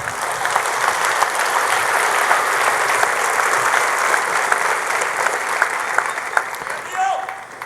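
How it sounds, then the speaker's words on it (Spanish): A church congregation applauding during a Sunday service, loud sustained clapping filling the room throughout, with a voice rising briefly near the end. "Dele un aplauso fuerte al Señor."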